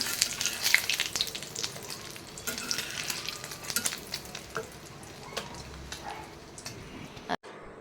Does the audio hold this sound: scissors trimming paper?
no